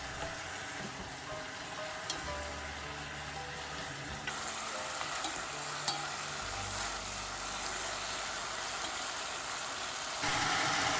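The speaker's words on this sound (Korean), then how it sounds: "국간장 한 큰술을 넣고 볶는다." Beef and seaweed stir-frying in a pot after a spoonful of Korean soup soy sauce goes in, giving a loud continuous sizzle with stirring scrapes and a brief splash, no voices.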